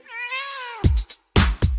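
A cat gives one long, clear, rising-and-falling meow close by, followed by a few short, sharp bursts of other noise.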